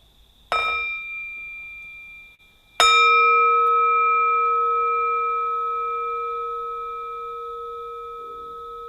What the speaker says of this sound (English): Let's have a sound of the bell.